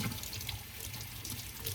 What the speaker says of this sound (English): We're going to turn on the water, get a sponge, clean out the inside